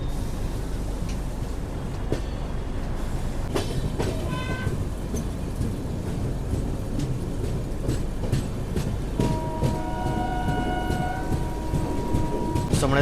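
Wheels clatter as the Secunderabad–Shalimar weekly AC express runs through a light curve just outside Vizianagaram station, steady loud rumble with brief squeals and tonal horn-like whines near the end.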